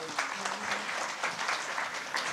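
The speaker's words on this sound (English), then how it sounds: "A round of applause for all of them" Audience applause for panelists at a Bombay Chamber sustainability event, a moderate and somewhat faint patter of clapping from a modest crowd over a brief stretch.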